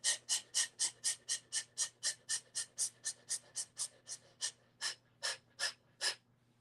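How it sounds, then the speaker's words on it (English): Rapid, rhythmic breaths during a breathing exercise, around twenty short forceful puffs in quick even succession, close and clear over a faint steady hum, with no talking. "We're going to basically breathe in,"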